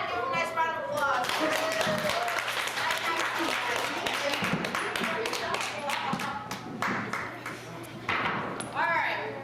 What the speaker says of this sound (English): go ahead and give him a nice round of applause